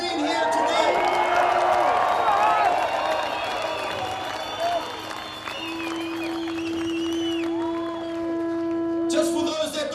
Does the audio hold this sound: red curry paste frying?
no